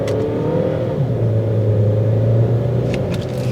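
Inside a 2010 Saab 9-5 driving in sport mode, a steady low engine and road rumble drones with a slight rise in pitch, smooth and continuous with no voices.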